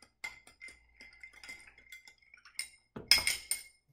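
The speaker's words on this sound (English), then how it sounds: "Give it a stir, get it cold." A cocktail made with Velvet Falernum and Lemon Hart 151 rum being stirred with ice in a glass: light clinks tick along steadily, then a louder rattle of ice and glass closes the clip.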